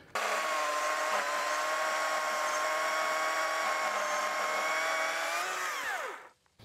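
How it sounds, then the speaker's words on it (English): A small electric saw whines steadily as it cuts through a tree, a loud, even motor tone that holds for several seconds before spinning down and stopping near the end. "These little electric saws don't make much noise."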